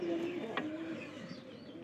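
A pigeon coos softly and faintly in short low notes against a quiet background hum, with weak, reduced calling.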